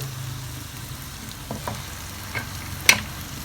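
Cut chicken pieces fry in a biryani pot with a close, steady sizzle. Scattered stirring scrapes and clacks sit on top, with one sharp knock near the end. No one speaks.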